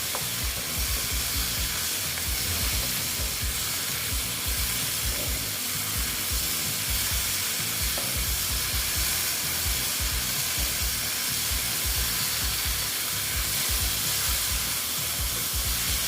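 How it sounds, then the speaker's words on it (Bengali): Okra (bhindi) being sautéed with spices in a pan: a continuous, even, close sizzling hiss that holds steady throughout, with no talking. "এখন আমি এই যে ঢ্যাঁড়সগুলো দিয়ে দিচ্ছি দিয়ে এবং ঢেঁড়সের সঙ্গে কষিয়ে নেব আমরা"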